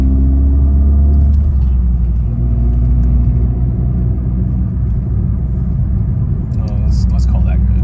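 A 4th-generation Mazda fitted with a Corksport short ram intake and cold air box drives while accelerating, heard from inside the cabin as a steady low engine rumble and road drone, with someone talking over it.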